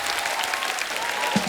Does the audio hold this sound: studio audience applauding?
yes